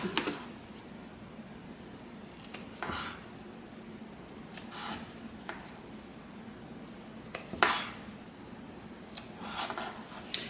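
Small snips of scissors cutting fabric close to the stitching of a clutch bag come as quiet, separate clicks spaced a second or two apart, close and alone in a hushed room.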